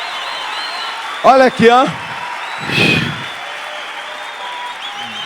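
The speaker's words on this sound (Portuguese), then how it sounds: "Dá um aplauso mais forte, meu irmão." Congregation applause in a church during a conference service, heard as a steady wash of clapping in the background while someone speaks briefly over it and a short burst of crowd noise rises.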